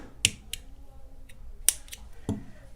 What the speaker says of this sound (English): you're going to just cut your yarn